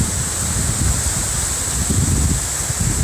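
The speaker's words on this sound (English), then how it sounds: "It's so nice and windy." Steady wind blows through an open nature park, a continuous broad rushing with low gusty buffeting against the microphone and no break for the whole stretch.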